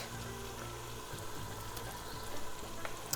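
Garlic frying with onions in a pan for a Sudanese beef stew, a quiet continuous sizzle with a low background hum and faint occasional clicks, no speech.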